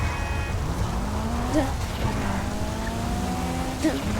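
A car in the GTA V video game driving through rain, its engine tone rising and falling as it accelerates and shifts, with a brief tire squeal, fairly quiet and steady with no speech.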